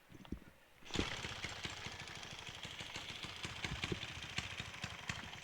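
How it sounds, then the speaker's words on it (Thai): A Honda Wave 125 motorcycle with a modified 59 mm bore engine starts after a second of quiet, then settles into a steady, close, fast-thumping idle that keeps running alone. "เดี๋ยวก็จะสตาร์ทฟังเสียงให้ดูนะครับ"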